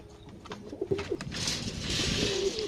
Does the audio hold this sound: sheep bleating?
no